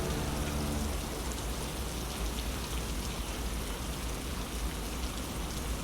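Steady rain falling over a flowing forest stream, a dense, even hiss of drops and water that runs continuously with no voices.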